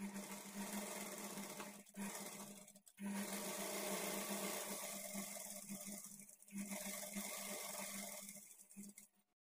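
Sewing machine running steadily as it stitches a half-inch folded edge on a blouse sleeve, a close, continuous mechanical whir with two short pauses and a stop near the end.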